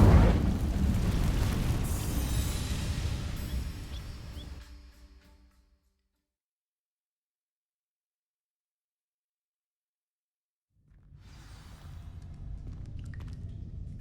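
The Incendio fire spell from Hogwarts Legacy bursts loudly against dry vines, a rumbling roar that fades into near silence, followed after a pause by a second, softer rising whoosh of flame.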